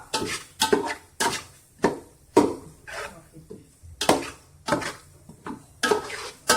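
Coriander and mint leaves being mixed in a pot for a homemade fish biryani, heard as a steady series of loud scraping, knocking strokes of a utensil against the metal pot, close and alone with no talk.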